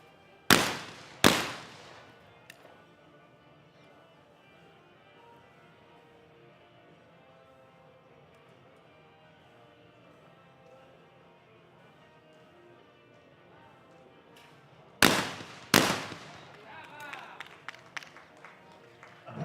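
Shotgun shots ring out in a women's junior skeet final at an ISSF Junior World Cup in New Delhi: two sharp, loud blasts, a long quiet stretch, then two more with echoing clatter and crowd noise after.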